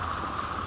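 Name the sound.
rain falling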